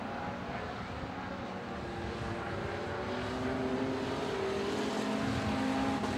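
Race cars in an A-Main event, with the leader in car number 36 closing on lapped cars in turn 3, hold a steady, continuous engine drone that swells slightly louder toward the end, with no talk over it.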